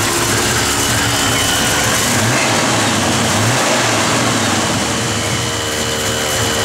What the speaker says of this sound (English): That's your little buzz that you're hearing is your little vacuum canister.